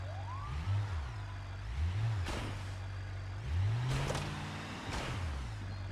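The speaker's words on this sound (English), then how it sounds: "let's run over the spike strips again" A car rolling and revving over spike strips, its engine pitch rising and falling in repeated low surges with bursts of broadband impact noise at a few points; no voices.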